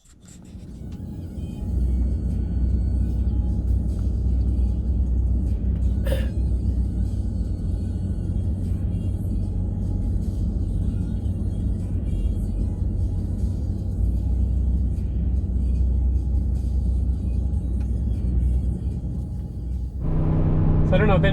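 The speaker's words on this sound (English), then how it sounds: "how the power is in this truck pulling this much weight" A Hemi pickup truck with an 8-speed transmission tows a heavy boat along a road, its engine and tires making a steady, loud low rumble that holds for a long stretch before shifting near the end.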